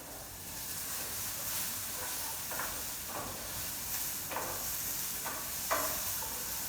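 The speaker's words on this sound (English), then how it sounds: "Now the onion's browning up a bit." Onion and garlic frying in a pan for cottage pie give a steady low sizzle and hiss, with a few soft scraping stirs standing out briefly from the constant frying noise.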